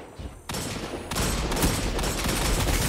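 Bursts of gunfire in a Destiny Trials match, starting quietly and then stepping up into louder sustained automatic shooting that keeps going to the end, with no talk over it.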